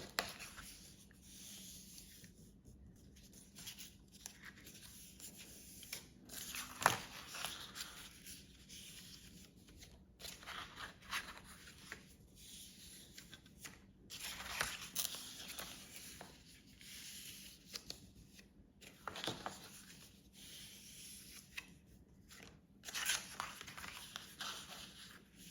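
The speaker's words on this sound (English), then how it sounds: "So you just need to fold on each of those score lines." A paper gift card is creased along its score lines, producing soft, close rustles and brief crisp crackles of the sheet being folded and pressed, quiet overall with scattered sharper snaps.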